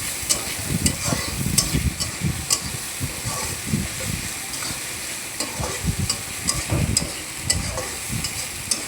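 Ginger, garlic and green chili paste sizzles in a hot pan while a spatula stirs it, with steady frying hiss and repeated scraping strokes over about nine seconds.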